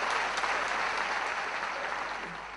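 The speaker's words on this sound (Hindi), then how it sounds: "जोरदार तालियों के साथ में देखिए।" Loud, steady applause from a large crowd, dense clapping that fades slightly toward the end.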